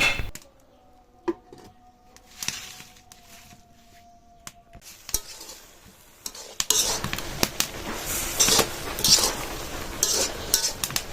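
Red amaranth greens being stirred in a pot on a clay village stove, with scraping, clinking utensil sounds and a soft sizzle, quieter at first and then louder and busier in the second half.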